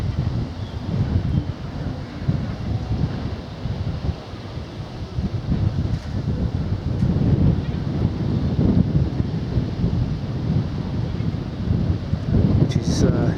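Strong gusty wind buffets the microphone outdoors near Minehead station in sunshine, a steady loud low roar that swells and eases throughout, with no talking.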